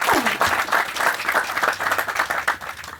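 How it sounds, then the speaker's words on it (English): A crowd claps at the grand opening of a permanent supportive housing village for veterans in Cathedral City, a loud, sustained wash of applause across the whole stretch. "Yes, let's clap for them."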